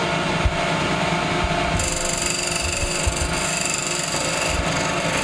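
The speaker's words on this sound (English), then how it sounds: "it's called a finishing cut, and it's cut with the left hand edge only" A chisel's left-hand edge takes a finishing cut on wood spinning on a lathe, giving a steady scraping, shaving hiss with a few soft knocks, loud and close throughout.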